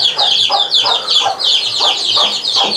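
Chickens cluck repeatedly in a rural Vietnamese farmyard near a buffalo pen, a steady stream of close, overlapping clucks with busy high chatter and no talk.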